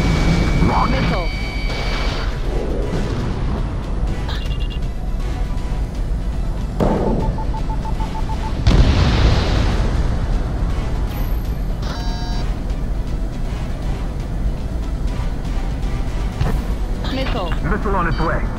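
Missile launches and explosions during an air battle in Ace Combat 7, booming blasts and rushing roars over steady engine drone, with radio voices talking throughout.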